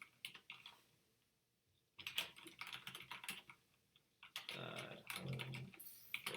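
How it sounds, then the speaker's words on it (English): Rapid, uneven keystrokes clatter on a computer keyboard, coming in bursts with brief pauses between them, close by and fairly quiet, with no talking. "please do let me know if my keyboard is too loud and annoying"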